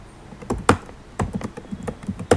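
Someone types an address on a computer keyboard, a quick irregular run of crisp, close key clicks with short pauses between bursts.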